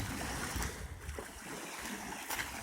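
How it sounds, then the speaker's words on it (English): Sea waves that have picked up from an earlier flat calm wash and rush in a steady, broad noise close by, with slightly stronger surges near the start and end and no voices. "Waves have picked up a little bit."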